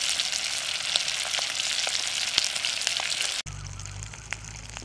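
Fish coated in masala sizzles steadily in hot oil for a South Indian fish fry, a dense continuous crackle up close that cuts abruptly near the end to a quieter hiss with a low hum.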